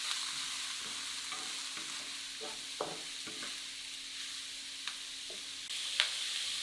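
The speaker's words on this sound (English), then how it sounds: "Continue stir frying to mix the ingredients." Mushrooms, wood ear mushrooms, cubed carrots and potatoes stir fry for a vegan Tibetan dish, a quiet steady sizzle broken by soft, irregular scrapes and taps of the spatula in the pan.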